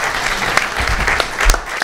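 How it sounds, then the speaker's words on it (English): Loud applause at an Orlando city council meeting, a brief burst of crowd clapping with a few sharper claps and low thumps, ending after under two seconds. "we got to give Sesh a round of applause"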